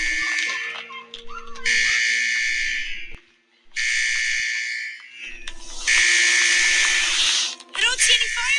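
A cartoon elementary school's fire alarm blares during a fire drill in long, loud, shrill electronic bursts separated by short pauses, with children's voices briefly heard near the end.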